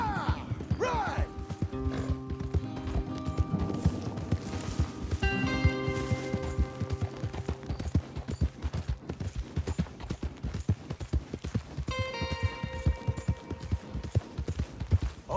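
Horses galloping in Red Dead Redemption 2, a steady rapid clip-clop of hooves with voices, music tones and other game sounds layered over it.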